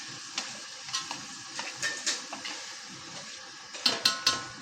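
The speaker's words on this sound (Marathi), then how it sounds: "कांदा मीठ टामॅटो नरम पडतात ना भाजून येते" Onion, salt and tomato fry in a pan at a home-style vegetarian eatery, a soft steady sizzle broken by repeated scrapes and clinks of a spoon stirring against the metal, with a few sharper knocks near the end.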